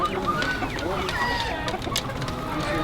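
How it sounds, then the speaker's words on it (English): Native chickens cluck and call in a busy, noisy setting in Baguio, with scattered bird sounds over a dense background and people talking nearby. "Native chicken, 45 days"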